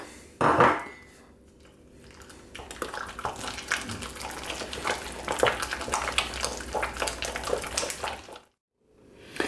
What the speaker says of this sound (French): J'y mets le deuxième œuf et je continue de mélanger.